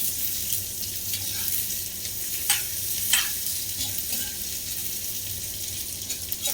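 Fish curry ingredients dry-roasting in a pan, a steady low sizzle with stirring scrapes and a couple of sharper clinks against the metal, close and continuous with no talking.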